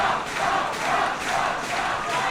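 Wrestling arena crowd roaring and cheering for wrestler James Roth, a dense sustained wall of voices rising and falling in swells with no distinct single speaker.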